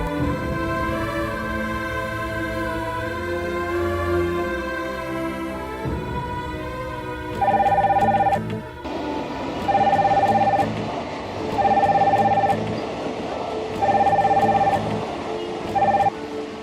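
A mobile phone rings after being dialed from another phone, a repeating electronic ringtone in regular bursts that grows louder and clearer over background music.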